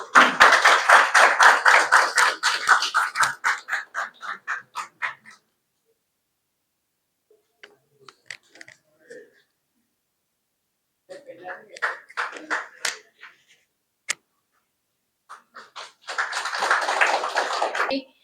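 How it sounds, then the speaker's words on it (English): An audience at the Miss TCL 2026 finalists' stage ceremony in Longding claps in quick, even strokes, then falls quiet except for a few scattered claps and some talk, before the clapping swells again near the end. "Please give a big round of applause."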